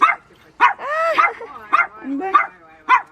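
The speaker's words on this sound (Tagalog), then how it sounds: "Lahat ng aso andito." Several dogs bark and yip excitedly nearby in quick sharp bursts, mixed with whining whimpers.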